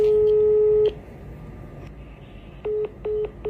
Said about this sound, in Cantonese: 我就開始打俾佢啦。